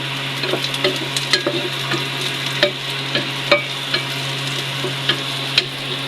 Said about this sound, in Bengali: এই তো ভাজা হয়ে গিয়েছে